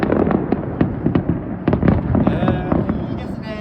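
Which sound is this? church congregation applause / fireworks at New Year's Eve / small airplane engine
fireworks at New Year's Eve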